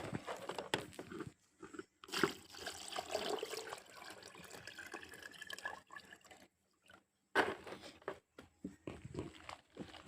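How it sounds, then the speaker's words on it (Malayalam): Fermented rice water is poured from a bucket onto plant leaves as organic fertilizer, heard as intermittent splashing and trickling bursts broken by short quiet pauses. "ഇനി നമുക്ക് ഈ ബക്കറ്റിലിരിക്കുന്ന കഞ്ഞിവെള്ളം ഈ ഇലകളിലേക്ക് ഒഴിച്ച് കൊടുക്കാം."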